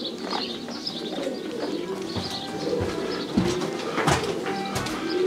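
Racing pigeons coo repeatedly in a loft, a steady low murmur of overlapping calls with occasional wing flutters and chirps, fairly close and continuous throughout.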